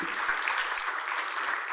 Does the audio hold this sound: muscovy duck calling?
no